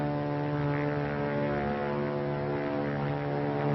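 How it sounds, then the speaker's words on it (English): A World War II propeller plane drones overhead, a loud, continuous engine hum with a steady layered tone and no voices. "It's a plane, all right."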